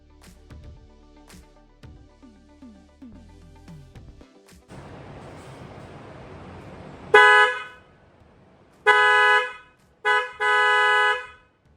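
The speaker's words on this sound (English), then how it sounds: "Here's a clip of the new horns with the bumper fully installed." New aftermarket dual horns on a Hyundai Veloster N, fitted behind the bumper, blast loud and close: one honk, then two more in quick succession, each a bright held tone, after quieter mechanical noise and hiss.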